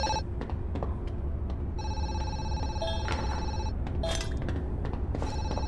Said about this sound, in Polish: Telefon dzwoni.